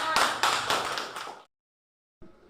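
A class bursts into applause in a room, a dense run of many hands clapping at once for over a second before it abruptly stops, followed by silence and then faint rustling.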